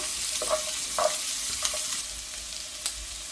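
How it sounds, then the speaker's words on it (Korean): Onion and carrot stir-fry in a hot pan with a continuous bright sizzle, broken by a few scraping stirs of a utensil against the pan, close and with no voices. "당근하고 양파는 조금 이제 익어야 되니까 먼저 이렇게 볶으세요."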